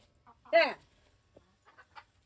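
A chicken gives a loud squawking cluck, followed by a few soft, scattered clucks and light rustling in an otherwise quiet setting.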